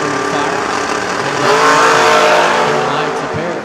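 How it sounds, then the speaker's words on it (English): Mustang and BMW drag racing cars roar down the strip together, a loud, sustained engine wail that swells as they accelerate, with a commentator talking over the noise. "Mustang and BMW matchup"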